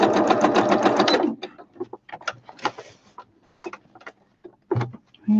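A sewing machine runs along the long edge of a fabric basket in a loud, rapid burst that stops, then gives way to scattered clicks and light handling noises nearby.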